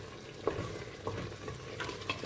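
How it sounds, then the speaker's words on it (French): A tomato sauce with sweet pepper and turmeric simmers for a chicken dish: a dense, even bubbling hiss broken by a few soft spoon knocks and stirs, with no voices. "on laisse bien mijoter"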